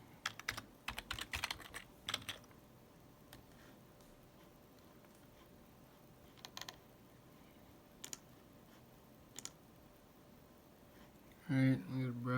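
Quick bursts of typing on a computer keyboard, a dense cluster of clicks at the start and then scattered single keystrokes, fairly close and quiet, with a louder thump near the end.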